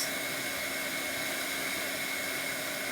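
A very hot blow dryer aimed at a tote bag during a transfer craft project gives a steady, close, unbroken whooshing roar that holds even for the whole stretch.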